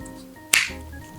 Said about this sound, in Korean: 딱딱 소리가 날 때까지 끼워주시면 돼요.